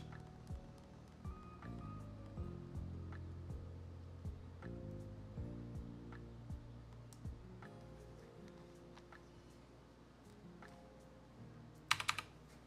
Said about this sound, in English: I like my clacky keyboard.